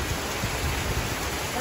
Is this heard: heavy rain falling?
yes